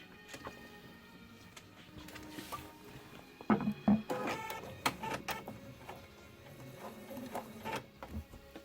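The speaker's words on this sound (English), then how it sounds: "now you're going to sew this tie onto the mask" A sewing machine stitches a tie onto a fabric mask, quiet rapid mechanical ticking in short bursts with brief pauses between runs.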